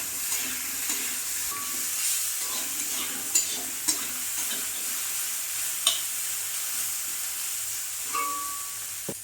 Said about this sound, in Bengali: ডাঁটাগুলোকে আর একবার নেড়ে নিলাম